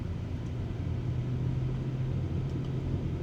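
A car driving along a road, a steady low rumble of engine and tyre noise heard from inside the cabin, continuous and even.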